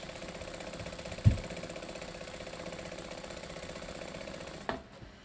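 A sewing machine hums steadily during free-motion quilting of a preprinted panel, with a close, even motor drone and a couple of soft knocks before it stops near the end.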